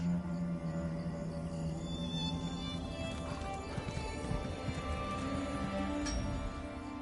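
Horse hoofbeats clip-clop in the Elder Scrolls Online video game, a steady rhythm of moderate loudness under sustained tonal game music, with no speech.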